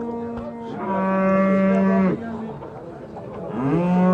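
A cow moos at a busy livestock market where a young calf is also being sold, giving two long, loud, close calls: one sustained bellow and then a rising second moo, with no talk over them.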